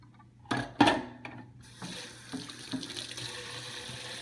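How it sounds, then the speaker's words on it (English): A plastic reservoir part from a Bissell ProHeat Revolution Pet Pro carpet cleaner is rinsed under a tap. A couple of knocks come first, then running water hisses and splashes steadily into the sink, close and moderately loud. "And now I'm just going to rinse this out really well."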